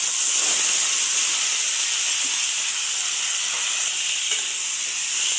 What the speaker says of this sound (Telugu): నూనె గరం అయింది. టమాటాలు వేస్తున్నా.